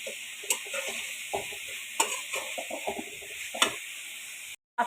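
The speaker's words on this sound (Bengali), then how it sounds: "কিছুটা টমেটো অ্যাড করে আবারও ভালো করে একটু আমি এটাকে নেড়ে নিব" Cauliflower and tomato stirred in a frying pan, the spatula scraping in several distinct strokes over a steady, close sizzle, with no voices.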